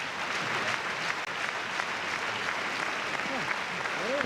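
A crowd at a wrestling match in the Nippon Budokan applauds steadily and loudly through the whole stretch, a dense wash of clapping with a commentator's voice running over it.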